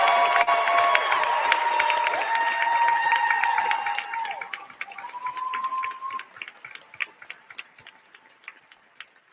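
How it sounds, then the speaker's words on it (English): An audience at a campus socialist event applauds and cheers, a dense burst of clapping with whooping voices. It thins after a few seconds into scattered individual claps that fade out. "Let's get a round of applause for our folks in Palestine."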